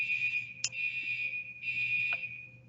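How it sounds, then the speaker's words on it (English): A hotel fire alarm sounds with a continuous high-pitched electronic tone, broken by two brief clicks or pulses, steady and fairly loud indoors with no talking. "I'm at a hotel and the fire alarm is going off"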